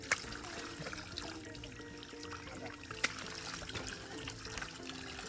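Someone washes with cold water outdoors near a hut in the mountains, a continuous faint trickle and splash with one sharper splash midway, and no speech.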